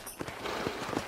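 Horse hooves clip-clop in a slow, even rhythm in the video game Red Dead Redemption, several hoofbeats close by over a soft ambient background.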